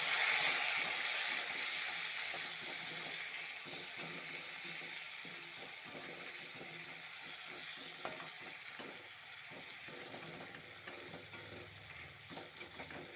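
Chopped onion and tomato sauté in a pan while being stirred, giving a steady close sizzle broken by repeated scraping strokes of a spatula that continue without a break.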